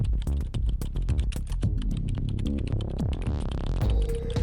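An AI prompt is typed on a computer keyboard in a rapid, uneven run of close, crisp key clicks, with background music playing throughout.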